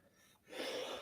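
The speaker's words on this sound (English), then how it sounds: "I have not been sneezing at all day." A single loud sneeze bursts out after a quiet breathy intake, close and abrupt, with no talking.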